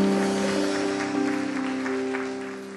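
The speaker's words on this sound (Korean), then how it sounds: "영광의 박수 올립시다." Worshippers at a youth church service give a round of glorifying applause, a soft, continuous patter of many hands over a steady low tonal hum, gradually tapering off.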